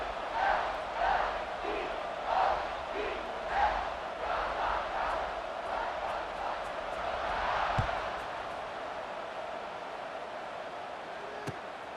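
A stadium crowd cheers in the College Football 26 video game, a continuous broad roar with scattered shouts that swells and then settles into a steady wash of noise.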